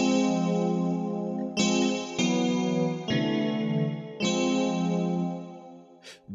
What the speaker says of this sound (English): Or if I turn the modulation up, it changes the sound.